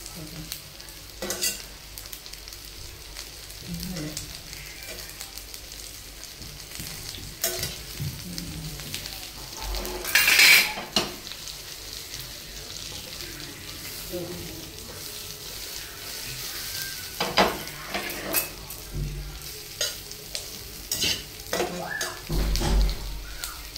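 Colocasia rolls (alu vadi) frying gently in a pan over a low gas flame, a steady soft sizzle with occasional scrapes and clinks as the pieces are turned, one louder clatter midway, heard up close.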